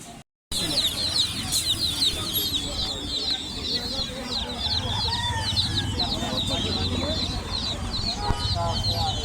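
Pigeons at a Mirpur pigeon market, with dense, overlapping bird calls and fluttery chatter filling the air and people talking in the background throughout.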